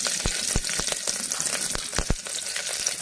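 Green chilies sizzle in hot oil with cumin seeds, a steady close frying hiss with sharp crackles and pops scattered through it, no voices.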